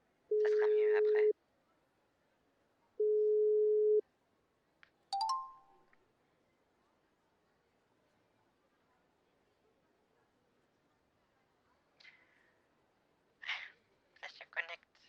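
Two long steady ringback tones of a French mobile call connecting sound one after another, then a short beep and scattered clicks and faint rustles, with a voice briefly at the end.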